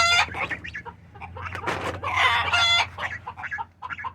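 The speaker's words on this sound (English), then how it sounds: "That little rooster is gonna get them all going." A small backyard rooster crows loudly and close, with hens clucking and squawking around it in a busy coop chorus.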